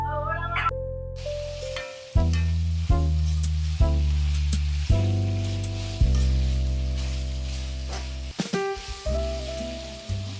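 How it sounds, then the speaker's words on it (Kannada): Vegetables sizzle in a pan for egg fried rice, with a steady close frying hiss broken by several sharp stirring knocks and scrapes, no voices. "ತರಕಾರಿಗಳೆಲ್ಲ ನೀಟಾಗಿ ಫ್ರೈ ಆಗಿದೆ"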